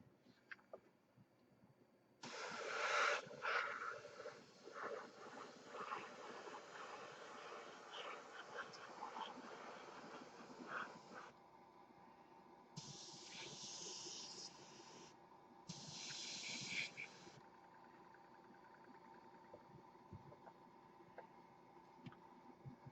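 An airbrush or spray gun lays a thick wet coat of paint onto the saucer of a 1/1000 scale TOS Enterprise model, a steady hiss running about nine seconds, then two shorter bursts after a pause, close and fairly loud.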